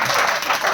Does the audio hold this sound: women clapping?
yes